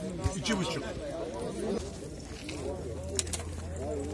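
Urfa pigeons coo at a pigeon market in Gaziantep, with soft, throaty calls rising under nearby people talking.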